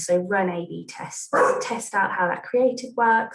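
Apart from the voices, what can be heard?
dog barking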